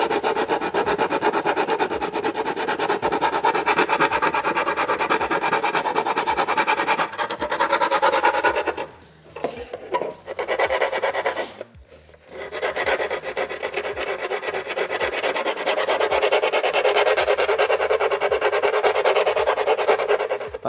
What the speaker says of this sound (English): What I'm trying not to do here is to touch these edges while I'm sanding this edge